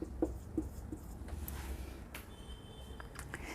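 A pen scratches briefly across paper, soft and close, a few light strokes over faint room hiss, with no one speaking.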